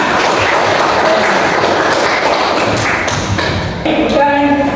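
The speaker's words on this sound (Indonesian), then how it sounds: "Tepuk tangan semuanya" A classroom full of students claps together in a dense, steady burst of applause lasting several seconds, with a voice speaking briefly near the end.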